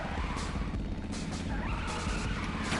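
Steady engine roar and tire skids from cars racing in the video game LittleBigPlanet 3, loud and continuous, with a brief rising squeal near the end.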